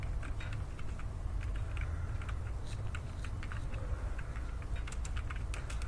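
Fingers typing steadily on a computer keyboard, a continuous run of light close key clicks over a low constant hum, with no talk.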